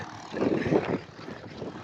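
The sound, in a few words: tractor rotavator running in a field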